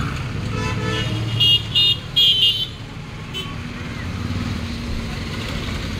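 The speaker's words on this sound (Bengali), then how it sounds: "আজকে প্রচণ্ড জ্যামজট হয়েছে মেন রোডে" Cars stuck in a heavy jam on a main road, with a steady rumble of engines and traffic and several short horn toots in quick succession near the start, loud and close.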